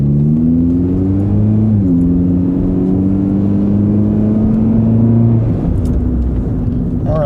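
A Honda Fit drives and gently speeds up while its new brakes are bedded in, a loud, close engine hum with steady rising tones that dip briefly at a gear change and ease near the end.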